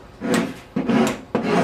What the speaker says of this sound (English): What I prefer is to use a wood rasp.